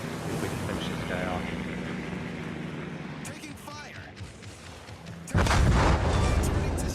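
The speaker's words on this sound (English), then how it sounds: "Rocket hits there." Rocket hits land in a naval warship battle video game, heard as booming impacts over ongoing wind and sea sounds, with a loud blast near the end and a person talking throughout.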